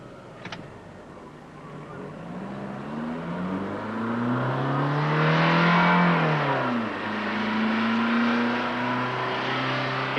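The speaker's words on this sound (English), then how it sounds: "we'll stop the car and run it through from 0 to 100 kilometres per hour at maximum effort" Diesel Volkswagen Golf accelerating flat out from 0 to 100 km/h, the engine note climbing steadily through the gears with one clear shift dip, loud and close throughout.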